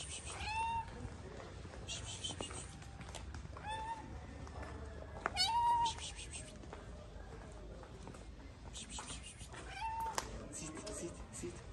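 Two friendly cats meow repeatedly and insistently before being fed delicious food, their cries rising in bursts over a person's speech and background movement.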